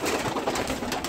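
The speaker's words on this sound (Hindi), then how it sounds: "मैं आपको कबूतर दिखाता हूँ" Indian BMW breed pigeons, a fully red breed, coo in a loft, a soft murmuring coo within a dense, noisy background.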